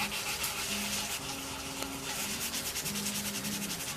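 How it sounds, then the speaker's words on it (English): Continuous rough rubbing and scraping as sandpaper is worked back and forth over metal on a Chrysler 4.7 engine's exhaust manifold area, close and steady with a faint hum beneath. "let's go ahead and sand with the clean spot and let them see what happens."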